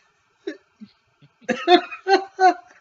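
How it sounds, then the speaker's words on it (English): Several short, raspy coughs, close and fairly loud, first single and spaced, then a quicker run of three or four harsher coughs. "Is this guy coughing at us now?"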